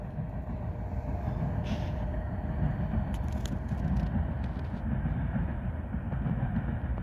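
The tail end of a freight train rolls past at Abbeville, a loud, steady low rumble of wheels and cars with faint metallic squeals and clicks, and no voices.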